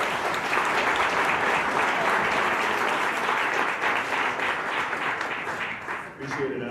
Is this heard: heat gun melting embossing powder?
no